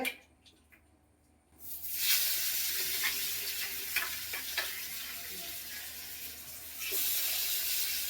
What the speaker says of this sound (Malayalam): അപ്പോ വെളിച്ചെണ്ണ ഒഴിച്ചിട്ടുണ്ടായി അപ്പൊ അത് ചൂടായി തുടങ്ങി സിമ്മിലാണ് ഇട്ടേക്കണത് അപ്പൊ മീനെടുത്ത് പൊരിക്കാനും എടുത്തേ